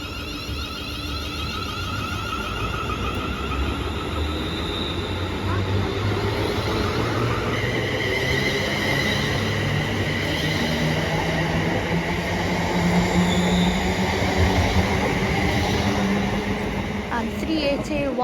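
A Class 380 electric passenger train pulls away from a station platform, bound for Glasgow Central: a sustained rumble with rising motor whine and high tones, steady and fairly loud throughout, with a voice talking at points.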